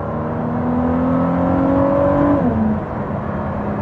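A Ford GT V6 engine with a new Quicksilver Inconel exhaust hums steadily, its pitch rising slightly before dropping back, a smooth close exhaust drone rather than sharp revs.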